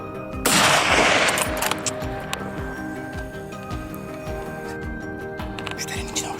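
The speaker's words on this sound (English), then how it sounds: "Continuously firing, a few more targets fell." Rapid gunfire from a boar hunt, with a dense burst of repeated shots near the start followed by steady shots at a fast, regular rhythm, loud and close, in an outdoor field setting.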